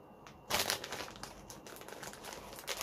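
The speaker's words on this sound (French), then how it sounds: "je vais essayer d'ouvrir au ciseau" Snack packet bought at Japan Expo being cut open with scissors, close, faint crinkling and rustling of the wrapper in short bursts with a few sharper crackles, no talking.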